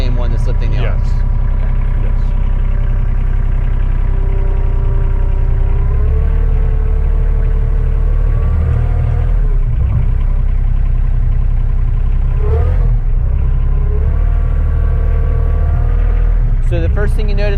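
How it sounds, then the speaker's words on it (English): Engine of a Rural King RK25 compact tractor idling up as it accelerates, a steady low rumble that rises in pitch around the middle, with people talking over it throughout. "So the first thing you notice when you're driving is that it auto idles up as you're accelerating"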